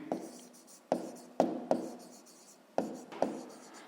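A pen scratches on paper while numbers are written by hand for a fifth-grade math exercise: faint, close, irregular strokes with sharp taps, about six short bursts over a few seconds, no voices.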